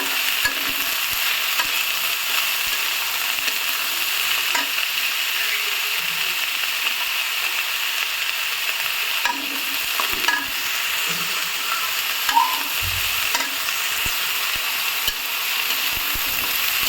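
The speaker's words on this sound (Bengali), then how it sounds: "এরপর যে আমি এখানে পটলের খোসাগুলো দিয়ে দেবো, দিয়ে একটু নেড়ে নেব।" Pointed gourd peels fried with spices in a pan, with a steady sizzle under repeated scraping and stirring strokes that continue throughout at close range, and no talking.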